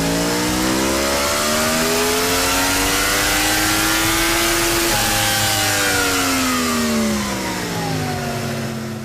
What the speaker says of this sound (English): Give a last listen to your stock exhaust.